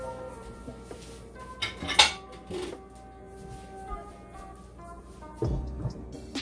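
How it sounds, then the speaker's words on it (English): A metal lid set onto a pot of simmering cubed steak and gravy, giving one sharp clink followed by a few lighter clatters of cookware, otherwise quiet with a faint background hum. "I'm going to put the lid on it."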